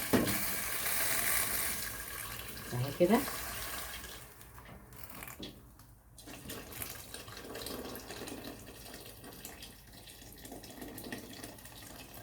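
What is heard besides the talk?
pouring hot water into pot of boiling black-eyed peas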